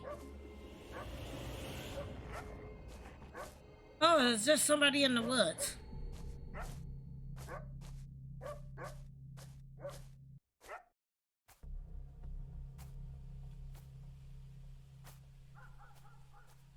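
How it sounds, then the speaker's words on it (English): A dog yips and barks in short bursts inside a video game's ambience, with someone talking over and between the sounds. "What are you barking at"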